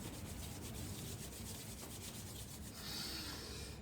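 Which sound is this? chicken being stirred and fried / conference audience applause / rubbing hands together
rubbing hands together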